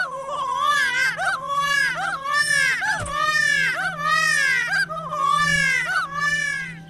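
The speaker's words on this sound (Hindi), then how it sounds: "ऐसे घने जंगल में एक बच्चा रो रही है।" A baby cries in a dense forest in an animated folk story: loud, close, repeated wailing bursts with rising and falling pitch that run almost without a break.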